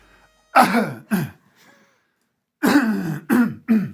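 A man imitates a cough with two harsh bursts, a brief pause, then three more coughing sounds in quick succession.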